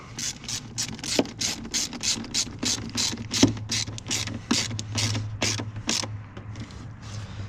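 Steady rapid clicking of a ratchet tightening a part on a Ford 5.4 modular engine during a cooling system rebuild, about twenty close, even strokes with a faint mechanical creak and no talking.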